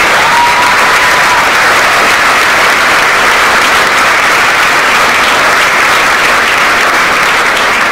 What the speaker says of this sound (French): je te demande, Abdelrahim, de te lever et qu'on t'applaudisse